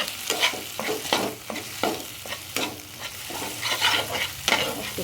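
Cumin and coriander are stirred into a spice mix in a sizzling pan, with repeated scraping strokes over a steady frying hiss, close and moderately loud.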